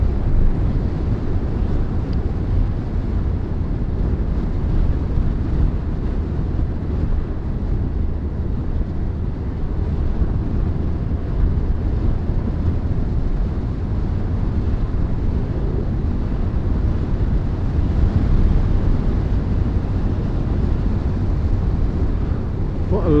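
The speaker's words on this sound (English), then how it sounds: "Wind is getting up a little bit, so you might be able to see if the wind cancellation on the camera works as well." Steady wind buffeting a helmet or camera microphone during a motorcycle ride on a country road with sweeping bends, a continuous loud low roar that stays constant throughout with no talking.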